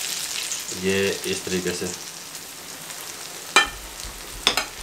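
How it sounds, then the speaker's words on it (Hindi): Chana dal pakoras frying in oil over a medium flame, a soft steady sizzle with a couple of sharp clatters of a utensil, while someone speaks briefly at the start. "ये सारे मैं इस तरीके से फ्राई करूँगा।"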